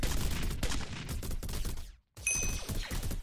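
Rapid turret gunfire in the video game Galacticus Wars, a dense, loud stream of shots that cuts out for a brief moment and then resumes just as heavily.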